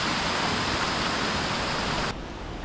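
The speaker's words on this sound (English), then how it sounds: "A little bit of water running this side, more than we've seen further along." Water rushes steadily along a stream at Kennall Vale, a disused gunpowder works, as a dense, even hiss that drops abruptly to a quieter flow near the end.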